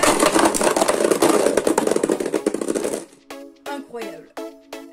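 Beyblade Burst spinning tops clash and drift in a plastic stadium, giving a dense loud rattling whir for three seconds that cuts off, followed by excited voices talking.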